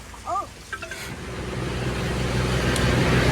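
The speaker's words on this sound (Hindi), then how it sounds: "ये आल्टो गाड़ी है जो मैनुअल से ऑटो हुई है।" A Suzuki Alto taxi converted from manual to automatic runs on the road, its engine hum building steadily under broad road noise from inside the car, with a few brief voice-like sounds early on.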